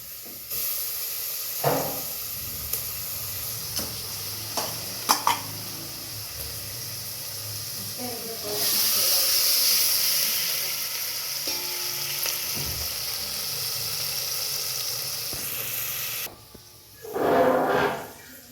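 Chillies and tomatoes frying in hot tempering oil make a steady hiss that surges into a louder, brighter sizzle partway through, with a few utensil clinks and stirring scrapes near the end.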